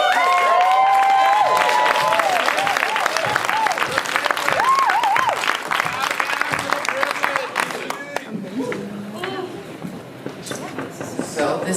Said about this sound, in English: this is perhaps some of the most important clapping I'll do this whole week